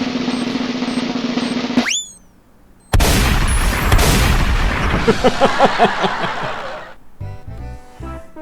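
Gunfire and grenade explosions from a video game, with a sharp rising whine, then a dense roaring burst of shots and blasts, followed by a rapid string of crackling gunshots that ends abruptly.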